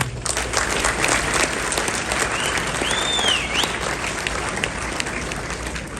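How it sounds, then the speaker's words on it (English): Sustained audience applause fills a hall at a live interview event with Khabib Nurmagomedov at the Miftaah Institute in Vancouver. It is dense and steady throughout, with a brief whistle partway through. "Round of applause, brothers."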